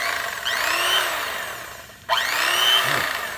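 An electric fillet knife whines while trimming pork spare ribs into St. Louis style, running in two close, loud stretches with the motor pitch swaying, a brief cutoff, then a sharp restart.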